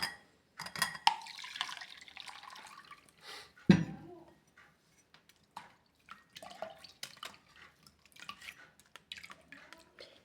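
Blended juice being strained with extra water added: quiet drips and trickles of liquid through a strainer, with light clinks of kitchen utensils and one sharper knock, sounding close and sparse.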